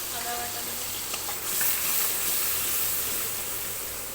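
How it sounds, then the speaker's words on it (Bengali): Garlic and onion paste fries in hot oil in a home kitchen, a steady close sizzle and hiss that swells briefly partway through, with no talk. "এই তেলের মধ্যে রসুন বাটা দিয়ে দিচ্ছি আর পেঁয়াজ বাটা দিচ্ছি।"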